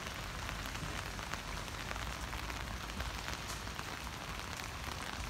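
Rain pours outside a gem and mineral show in North Carolina in May, a dense, even hiss of drops on surfaces that stays constant and fairly loud throughout, with no voices.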